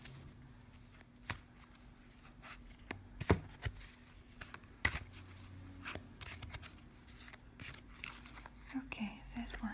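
Angel oracle cards shuffled and drawn close up, soft papery riffles and flicks with sharper snaps of cards being handled, quiet and intimate, with a hushed voice speaking softly in places.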